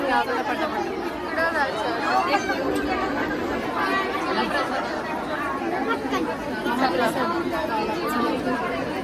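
Dense crowd chatter from many people gathered for a temple mahaprasad meal at Akalkot, a continuous mix of overlapping voices at close to middle distance with no single voice standing out.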